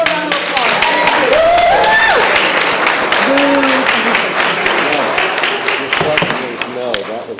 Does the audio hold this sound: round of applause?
yes